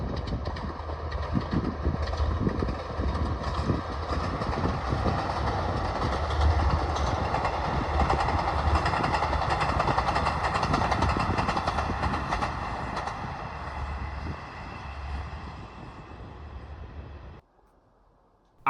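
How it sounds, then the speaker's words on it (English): A short-formed pair of Class 156 diesel units nears the Horseshoe Curve on a July evening, its rumbling engine and clattering wheels holding steady and fairly loud before cutting off abruptly near the end. "this July evening shot approaching the Horseshoe Curve shows the same train short formed to just 2 156s"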